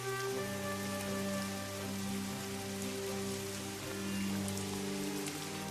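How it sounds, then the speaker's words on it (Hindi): Heavy torrential rain pours steadily in a cartoon scene, a dense continuous hiss of drops beneath sustained low musical tones, constant in loudness with no voices. "एक दिन बहुत मूसलाधार बारिश हो रही थी।"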